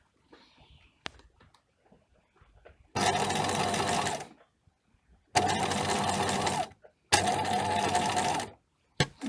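A sewing machine stitches the sleeve of a fabric overgown in three loud, steady bursts of about a second and a half each, separated by short pauses and faint handling noises.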